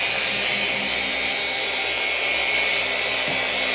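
An adjustable-trigger polisher on its lowest speed, pad set on a glass windshield, gives a steady close whirring drone with no pauses.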